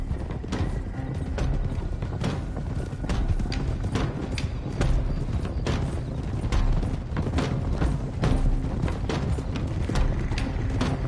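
Horse hooves clip-clop steadily in Red Dead Redemption 2 as several riders move at a walk, a busy, continuous patter of hoofbeats with a bed of creaking gear and ambient noise throughout.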